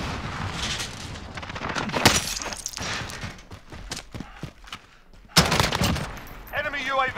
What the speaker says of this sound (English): Throwing stun! Stun grenade!